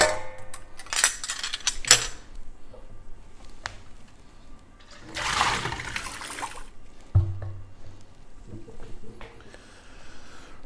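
Liquid is poured out of a ball lock keg during cleaning, with sloshing splashes and gurgling bursts, a heavier gush midway, and scattered knocks and clatter in between.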